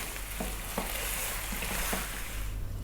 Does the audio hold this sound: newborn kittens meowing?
no